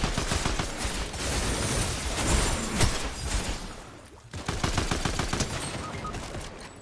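Dense video game gunfire fills the whole stretch, loud rapid automatic bursts overlapping one another, then a brief lull before the rattling fire resumes.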